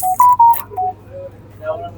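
Mobile phone keypad tones while typing a message, several short beeps of varying pitch in quick succession, loud at first and then fainter and spaced out, over a low steady hum.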